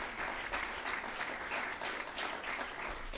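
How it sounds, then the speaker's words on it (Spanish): Audience applause after a presentation at a nature conservation forum indoors, steady broadband clapping from a room of listeners lasting a few seconds without pause. "un aplauso también para ti por la exposición realizada"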